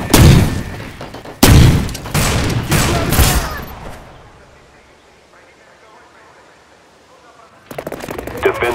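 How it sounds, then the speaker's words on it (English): Shooter video game combat with bursts of rapid gunfire and a grenade blast packed into the first four seconds, loud and close, then a quiet lull before more gunfire returns at the end. "Grenade!"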